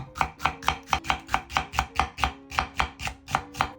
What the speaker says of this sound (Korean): 양파는 가늘게 채 썰어주세요.